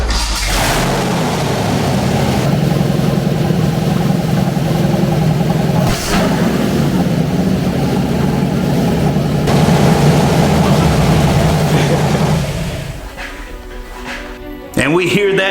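A project car engine turns over and catches, settling into a loud, steady running rumble near the microphone before cutting off abruptly, with a person talking over it.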